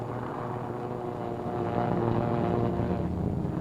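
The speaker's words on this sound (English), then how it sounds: "Another B-25 to join the formation circling over the task force until all the 16 planes can get into the air." Several B-25 bomber piston engines drone steadily as the planes take off from an aircraft carrier deck to circle over a naval task force, a loud continuous roar that swells slightly in the second half.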